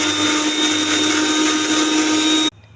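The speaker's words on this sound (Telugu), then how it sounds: "మిక్సీ వేయాలి." A mixer grinder whirs loudly and steadily while blending mint and coconut chutney, a close, constant motor whine and churn that cuts off sharply near the end, leaving quiet.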